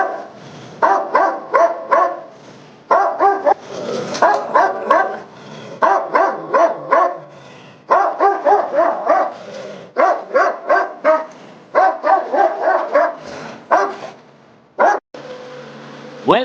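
Boerboel dogs at training bark loudly and repeatedly in rapid bursts, with short pauses between volleys, near and with no voices over them.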